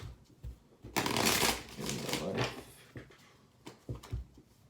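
Tarot cards are riffled and shuffled close up for a Celtic cross reading, with a long dense burst of card flutter followed by softer taps and shuffles, alone without talk.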